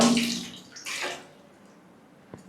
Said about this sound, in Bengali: কাপড় ধুচ্ছি